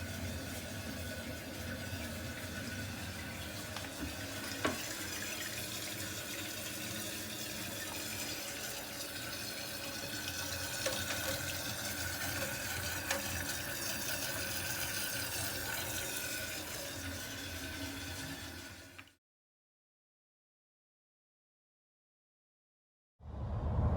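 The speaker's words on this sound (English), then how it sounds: "fill it up and let's test it for leaks" Water runs steadily into a toilet tank as the supply valve is reopened after the toilet is reset during a drain-line job, a continuous close rushing fill that stops abruptly near the end with silence after.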